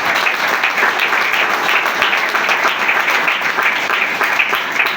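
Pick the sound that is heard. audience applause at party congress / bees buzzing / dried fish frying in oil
audience applause at party congress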